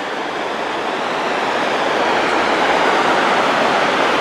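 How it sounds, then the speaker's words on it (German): A small waterfall in Norwegian mountains, a loud, continuous rushing roar of falling water heard close by with no voices. "Der nächste kleine Wasserfall."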